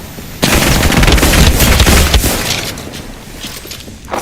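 Sustained rapid gunfire from a video game shooter, loud and dense bursts dominating the first half, then thinning into scattered shots and impacts.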